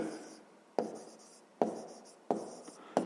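Pen strokes of someone writing a math answer by hand on paper tap in four sharp, evenly spaced strikes, each followed by a short scratchy drag, close and clear in a quiet room.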